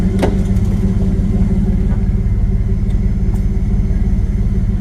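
Turbocharged car engine idling after a new vacuum port and turbo oil drain line were fitted, a steady, even low rumble with a regular pulse, close and loud, with a few faint clicks over it.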